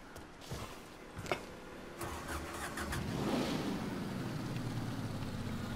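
A car engine cranks over in the Mafia 3 video game, with a few clicks and a brief starter whir before it catches and settles into a steady, close idle.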